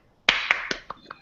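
A small group claps hands in a short burst of about five sharp claps that fade and thin out toward the end, close and fairly loud with no talking.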